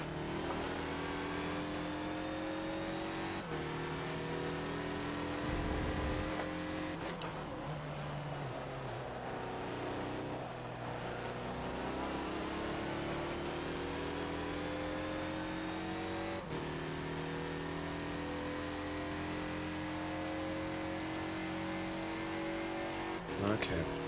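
A 2014 Mazda Lola B12/80 race car in a Forza racing game at Mugello roars continuously at high revs, with engine pitch climbing through gears and dropping on braking, someone talking over it.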